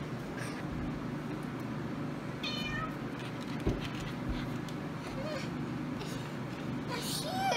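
Two pet cats give a few faint, short meows indoors over low background noise in a house under renovation, with a young child and an adult talking in between.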